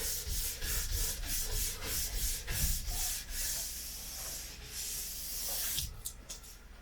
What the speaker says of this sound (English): you can use a finishing brush and polish it a little bit more